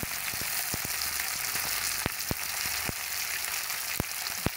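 Taro, potatoes and vegetables frying in a pan, a dense, even hiss of hot oil heard up close, with sharp little pops and spatters scattered through it and no voices.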